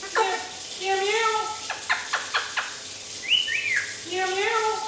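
An Eclectus parrot gives loud, close whistles and sharp chirping calls, including rising and falling whistled phrases and a quick run of staccato notes, with short pauses in between.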